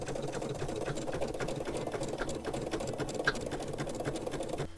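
An embroidery machine stitches through thick plush toy fabric in a steady, fast, rattling hum, moderately quiet and continuous without any voices.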